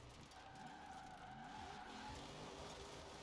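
Chevrolet LUV braking hard and skidding in the racing game Forza Horizon 4, a faint steady tire squeal over engine noise, heard quietly throughout.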